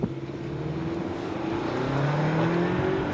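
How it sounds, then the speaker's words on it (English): A 2021 Kia Sorento pulls away from a standstill, its engine note rising steadily under a continuous broadband rush of road and wind noise, heard from inside the cabin. "now I'm just foot to the brake, foot on the gas, and let go"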